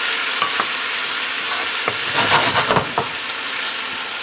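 Onions cook down in a pan with a steady, close sizzle of frying, broken by a few soft scrapes and stirs.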